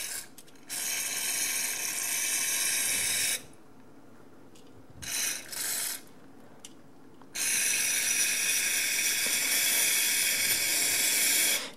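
Cleaner spray hisses loudly in long bursts into the fan hole of a small brushed RC motor, with two short blasts and a quiet gap between the longer sprays.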